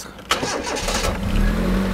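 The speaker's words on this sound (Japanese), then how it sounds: "これすごいなちょっとエンジンかけてみたいと思" A three-cylinder engine in a rare car cranks and catches, then settles into a loud, rough, rattling idle close by.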